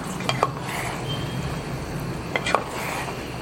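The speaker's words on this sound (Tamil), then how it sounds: "இப்போ இதை நல்லா மிக்ஸ் பண்ணிடலாம்." Yogurt-soaked soya chunks mixed in a biryani pot, with soft wet stirring and a few faint spoon clinks against the metal. A quiet kitchen hum sits behind it.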